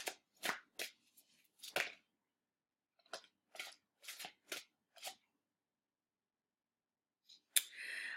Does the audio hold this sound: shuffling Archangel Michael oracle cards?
yes